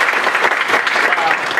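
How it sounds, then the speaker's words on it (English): Applause at a company event fills the room with dense, continuous clapping, and a voice speaks faintly underneath the crowd noise. "Let's give a round of applause for all the executive staff here at Exfuze."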